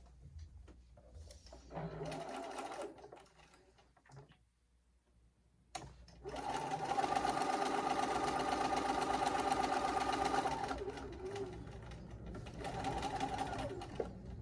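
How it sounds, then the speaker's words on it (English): Sewing machine stitching fabric pieces together, running in bursts of steady rapid mechanical whirring and ticking, with a short pause and a long continuous run in the middle, close and clear, no talk. "we're going to sew those together"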